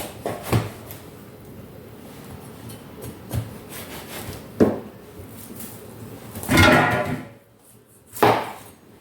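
Large knife cutting through a watermelon, five separate crunching, rasping strokes spaced irregularly over several seconds, each a short scraping burst with quiet pauses between.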